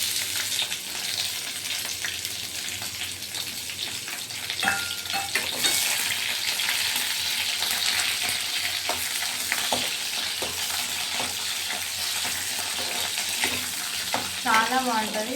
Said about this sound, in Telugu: సో ఇందులో మనం పోపుకి ఆనియన్,